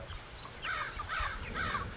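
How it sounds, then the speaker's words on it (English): Three loud caws from a crow near a family cattle farm, repeating at a steady rhythm about half a second apart over faint low rumble, with no one speaking. "I heard a crow."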